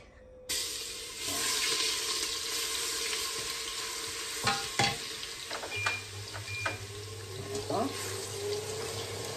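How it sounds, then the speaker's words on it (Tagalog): Garlic sizzling steadily in hot oil in a pan while cooking beef rendang, a continuous close frying hiss with small stirring clicks and scrapes on top. "And dahil mainit na guys, lagyan na natin yung ating garlic."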